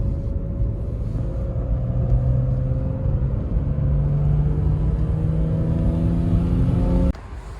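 A BMW E39 sedan drives steadily on a road, its engine droning low and close with a continuous rumble, gear shifts showing as rising tones, until the noise drops abruptly near the end.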